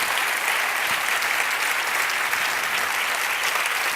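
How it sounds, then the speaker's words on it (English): Audience applause at a conference plenary session on women's issues, steady and dense throughout, a full room clapping together with no talk over it. "So please applaud our guests and for this wonderful plenary."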